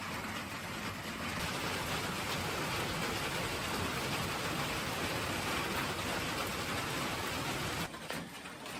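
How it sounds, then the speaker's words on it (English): Heavy rain pours steadily at Moose Mountain Shelter on the Appalachian Trail, a dense, loud, unbroken hiss that eases briefly near the end. "I've been waiting at Moose Mountain Shelter for the heavy rain to stop."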